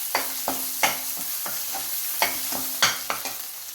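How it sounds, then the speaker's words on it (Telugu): Spice paste being stirred into golden-fried tempering for a bottle gourd mango pickle: repeated scraping spoon strokes over a steady oil sizzle, close and fairly loud, with no talking. "తిరగమాత గోల్డెన్ కలర్కి వచ్చినప్పుడు ఈ పేస్ట్ని దీనికి కలిపేయాలండి."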